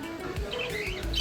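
Small caged birds at a farm chirp in short, bright tweets, a few quick calls scattered over a soft background, moderately close and with no talking.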